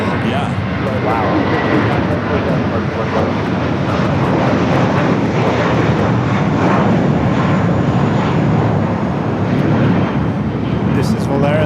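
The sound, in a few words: Volaris Airbus A321 jet aircraft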